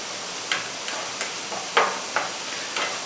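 Vegetables sautéing in a pan for spaghetti, a faint hiss of frying with a few sharp intermittent clicks and scrapes from stirring, quiet and close with no talking.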